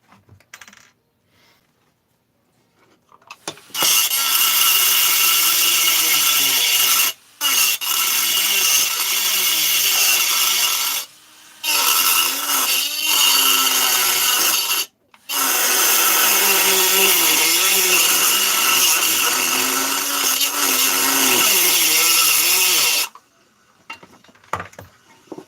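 Power tool grinding on spot welds during assembly of a 660, a loud continuous whine close up that runs in long stretches broken by a few brief pauses.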